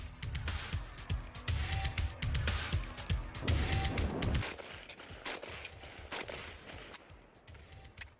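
AKM rifle shots at an outdoor shooting range crack out at a middling distance as several reports in close succession, followed by quieter range ambience as the firing tails off.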